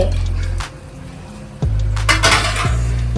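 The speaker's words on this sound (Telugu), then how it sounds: "మనము అన్నీ కలిపి పెట్టుకున్న పేస్ట్లోనండి ఈ వేగిన ఎర్రగా వేగిన ముక్కలన్నీ వేసేస్తున్నాము" Fried, reddened mutton pieces tumble into a vessel of mixed masala paste for a homemade mutton pickle, bringing close clinks and clattering of metal cookware with a few wet, heavy thuds.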